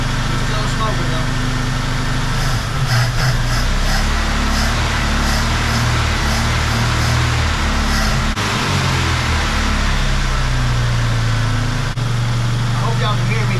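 A 1976 Chevy LUV engine idles steadily up close, a low constant rumble running throughout while someone talks over it.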